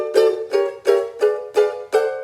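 Gypsy jazz swing chords on a ukulele in a B section walk-up, six crisp strummed chord hits in an even, bouncy rhythm, each ringing briefly before the next, close and alone without talk.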